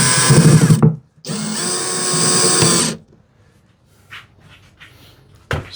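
A power drill drives screws into a wooden TV unit in two loud, whirring bursts separated by a brief pause, followed by quieter clicks and handling sounds.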